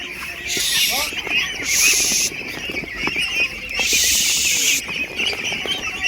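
Farm ducks being herded into their house at dusk quack in a dense, continuous chatter with scattered wing flaps and footsteps, punctuated by several loud bursts of hissing noise, while someone speaks at times.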